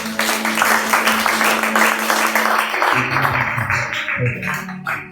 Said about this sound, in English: Give the Lord a clap of praise.